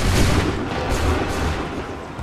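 Musket volley from a barricade battle in Assassin's Creed III, heard as a dense, rumbling roll of distant gunfire that fills the whole stretch without a clear break.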